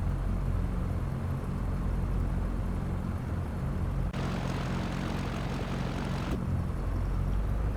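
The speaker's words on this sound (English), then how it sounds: "And we'll go ahead and take off." A propeller airplane in a flight simulator game rolls for takeoff with a steady, loud droning engine roar and rushing hiss, swelling noticeably for a couple of seconds midway before settling back.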